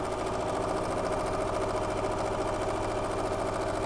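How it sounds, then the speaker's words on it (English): A sewing machine stitches steadily around the outer edge of quilt squares, giving a continuous, even mechanical whir with a fast rhythmic chatter, close and loud, with no talking. "I'm just sewing around the entire outer edge"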